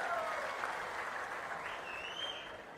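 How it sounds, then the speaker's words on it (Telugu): A crowd at a political rally speech in Narsannapet claps in a steady, even wash of applause, heard fairly faint and distant throughout. "వాళ్ళు గట్టిగా చప్పట్లు కొట్టి అభినందించండి"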